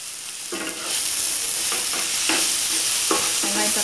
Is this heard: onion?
yes